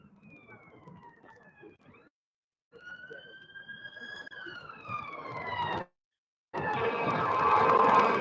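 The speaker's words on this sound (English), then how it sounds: "I can hear sirens now." Police car sirens wail along a city street, rising and falling tones passing at moderate distance, broken by brief gaps and swelling louder toward the end amid traffic noise.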